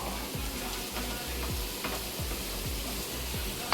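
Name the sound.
onion frying in a kadhai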